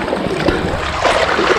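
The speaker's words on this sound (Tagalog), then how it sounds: "Kaso medyo malakas yung alon." Loud, broadband rushing of rough sea water, steady surges of waves with no voices, close and continuous.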